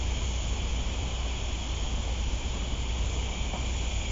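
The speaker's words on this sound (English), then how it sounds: "We still got to put up with the bug noise that you can probably hear in the background." Dense chirping of night insects, locusts or katydids, outdoors at a cemetery, a steady high buzzing wash that holds without pause under a faint breeze, moderately quiet and with no talking.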